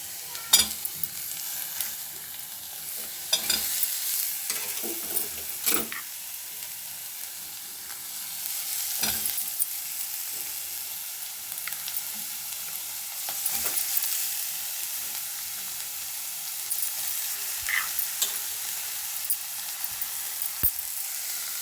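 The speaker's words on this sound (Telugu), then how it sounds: "ఇలా వేగిన తర్వాత మనం పొట్టు తీయకుండా కోసి పెట్టుకున్న సొరకాయ ముక్కల్ని మనం ఇందులో వేయాలి." Bottle gourd pieces fry in a pan with a faint continuous sizzle, broken by occasional sharp scrapes and clicks from stirring, close but quiet, no talk.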